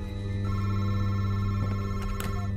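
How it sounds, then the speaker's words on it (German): Telephone ringing inside a room in the horror video game MADiSON, a steady electronic tone under a heavy low drone with faint knocks, heard from a distance and muffled. "Und jetzt klingelt auch noch das Telefon."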